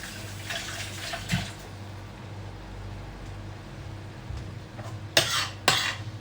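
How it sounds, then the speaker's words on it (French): Hands rinsed under a running kitchen tap while cooking vegetable biryani, with a continuous soft water hiss in the background broken near the end by two louder splashing bursts close by. "Je me rince les mains."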